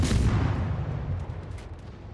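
Booming naval gunfire from warships in World of Warships, a heavy low rumbling blast at the start that slowly decays into a sustained roar, with no talking.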